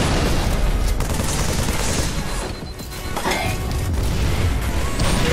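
Rapid gunfire in a shooting video game, loud and dense, with near-continuous shots that briefly ease off midway before resuming.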